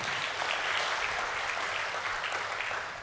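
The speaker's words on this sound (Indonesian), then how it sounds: "Tepuk tangan untuk Tuhan." Church congregation applauding during an Indonesian worship service, a dense, steady roar of clapping that tapers off slightly at the end.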